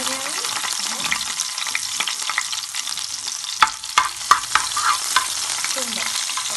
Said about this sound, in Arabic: بحط كده الثوم اللي فرماه